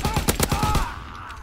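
A rapid burst of about eight sharp sniper gunshots in quick succession in Call of Duty: WWII, then a fading ringing tail.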